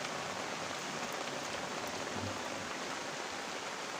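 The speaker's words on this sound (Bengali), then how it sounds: "প্রচণ্ড বৃষ্টি পড়ছে" Heavy rain pours steadily onto a rooftop with trees nearby, a dense, unbroken hiss and patter that stays loud and even throughout.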